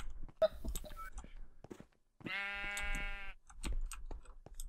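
A Minecraft sheep gives one long, clear bleat with a wavering pitch, framed by scattered game clicks and footsteps on either side.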